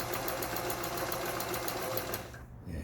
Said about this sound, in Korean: 그 다음에 11번에 패턴에 지그재 바느질이 들어있습니다.